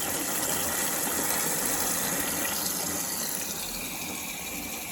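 A Whirlpool WFP3300 washing machine fills with water for a citric acid limescale clean, producing a steady, loud rushing gush that runs unbroken and tapers only slightly toward the end.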